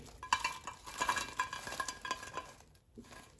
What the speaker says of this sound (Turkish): arkada çıtır çıtır ikinci parti kızarırken